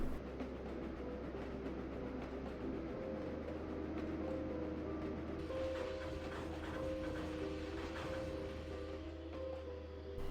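A train runs steadily along its rails with a constant low rumble and faint mechanical tones layered on top, the sound even and moderately distant, with no voices.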